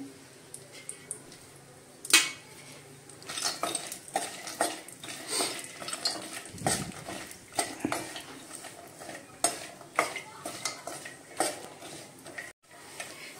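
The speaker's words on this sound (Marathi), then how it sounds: "आपण आता त्याच तुपामध्ये काजू टाकूया, बदामाचे तुकडे, काजूचे तुकडे, आता ते भाजून घेऊया आपण।" Cashew and almond pieces roasting in ghee for dink ladoo, with a spoon scraping and clinking against the pan in irregular bursts over a faint, low sizzle; no talking.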